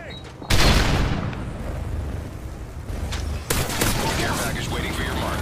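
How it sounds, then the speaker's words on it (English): Flashbang and gunfire during a Capture the Flag match on the Dome map in a team tactical shooter video game: a sharp blast sets off a loud, dense stretch of battle noise, and a second bang lands a few seconds later. "Toss in a flashbang!"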